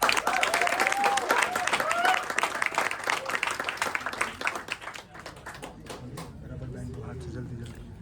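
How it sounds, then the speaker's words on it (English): Audience applause for theatre performers, a dense burst of many hands clapping that fades out after about five seconds, giving way to quieter room sounds and a voice. "So please give a round of applause."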